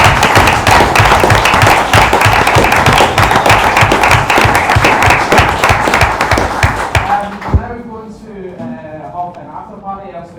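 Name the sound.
audience applause for volunteers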